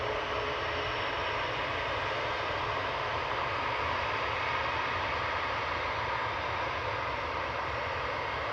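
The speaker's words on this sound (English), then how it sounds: "Coming over the threshold is the Virgin A330 from JFK" Virgin Atlantic Airbus A330 from JFK coming in over the runway threshold at Manchester Airport, a continuous low, even engine rumble and hiss at moderate distance, with no voices.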